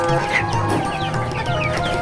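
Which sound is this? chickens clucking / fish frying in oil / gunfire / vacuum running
chickens clucking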